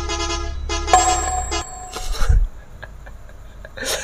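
Loud truck horn fitted to a modified Scorpio in the Indian Theft Auto game, sounding in a couple of long honks followed by a shorter toot, with other traffic noise around it.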